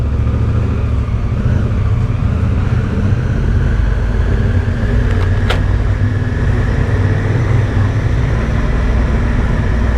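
A Honda Africa Twin motorcycle rides into a tunnel, its engine a steady low drone with road and wind rush that hold at a constant loud level throughout.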